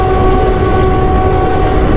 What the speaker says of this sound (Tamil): நம்ம போகிற ட்ரெயின் வந்து பாருங்கள், செம்மையாக போயிட்டுருக்குதுங்க